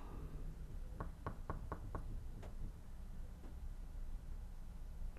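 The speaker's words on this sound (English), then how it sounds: "Is that actual knocking?" Five quick knocks on a door in a steady run, then two more spaced-out knocks, moderately close with faint room noise beneath and no talking.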